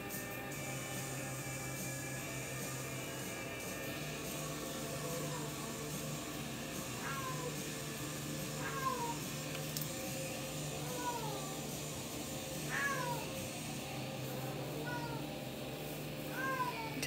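A cat meows repeatedly in short rising and falling calls, fairly close, over a steady low hum in a quiet indoor space during real-time wood burning work; no voices.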